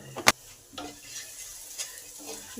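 Ground spices with turmeric, chili powder and cumin stirred in a frying pan: a sharp metal scrape at the start, then soft sizzling and a few light stirring strokes, close, without talk.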